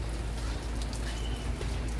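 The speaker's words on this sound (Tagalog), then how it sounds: "Ulan. Maulan kasi." Steady rain falls outside a market, a continuous dense hiss with no breaks, moderately loud and close.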